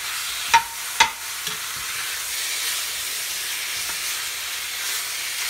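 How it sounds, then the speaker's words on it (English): Pork steak and sausage browning in a pot give a steady, hissing sizzle. Two sharp spoon knocks against the pot stand out early, followed by softer stirring sounds. "Just keep mixing."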